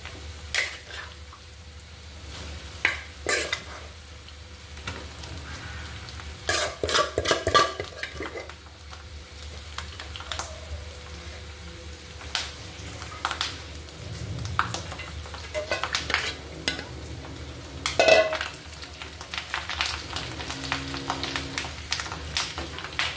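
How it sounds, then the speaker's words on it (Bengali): Fish roe from rohu tipped into browned onions with bay leaves in a pan, stirred with a utensil: repeated scraping and clinking strokes over a low steady sizzle, fairly close, no talk. "এবার আমি গুঁড়ো করে ডিমগুলো দিয়ে দিব"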